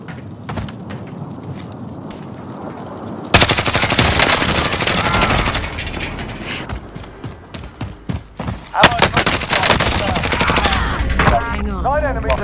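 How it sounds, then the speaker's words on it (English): In a video game, a cluster strike lands all at once with a loud burst, then a rapid string of explosions crackles and booms over several seconds while voices talk over it. "Let's actually put a fucking cluster strike up there."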